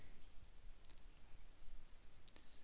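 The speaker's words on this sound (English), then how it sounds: "we'll click Create Button" Two faint, crisp computer mouse clicks, well apart, in an otherwise quiet room.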